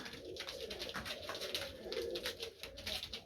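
Several Baku pigeons coo steadily in a loft, their overlapping, throaty calls rolling on without pause and close to the listener.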